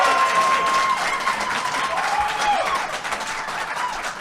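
An audience at a debate applauds in a sustained, fairly loud wash of clapping from many hands, slowly easing off toward the end.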